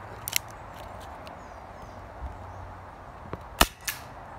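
A King Arms Python airsoft revolver fires a few sharp shots outdoors, widely spaced and fairly close, with a louder crack near the end over a steady background hiss.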